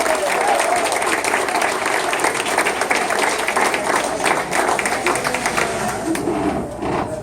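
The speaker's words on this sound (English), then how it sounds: "Let's give them a huge round of applause." Loud, dense applause from an audience at a Dunedin city commission campaign event fills the whole seven seconds as a steady, sustained roar of clapping with crowd noise mixed in.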